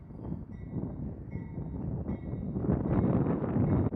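A BNSF ex-ATSF C44-9W diesel locomotive in warbonnet paint passes at Roseville, California, as a low rumbling roar that swells and grows louder toward the end, mixed with wind buffeting the microphone.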